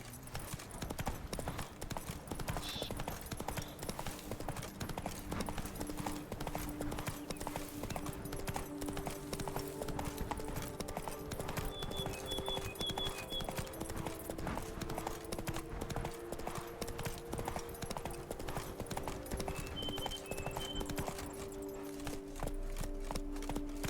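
The horse Roach trotting in The Witcher 3: Wild Hunt, Blood and Wine, giving a continuous close, even clip-clop of hooves over a low music bed, with a brief spoken line.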